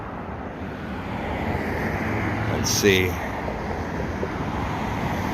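Steady road traffic noise rumbles beside a main avenue as a constant broadband wash with a brief louder passing swell near the middle, while a person speaks briefly over it.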